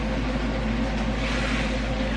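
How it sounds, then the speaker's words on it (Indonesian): An electric fan runs in a home kitchen, giving a steady, close, loud whirring hum with broadband airflow noise and no talking. "Maaf ya, kipasnya harus gue nyalain"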